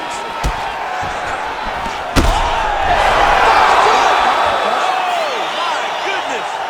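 Arena crowd cheering at a boxing-style fight in EA Sports UFC 5, a sharp slam followed by a swelling, sustained roar of many voices that holds steady and fades slightly, with a commentator talking over it.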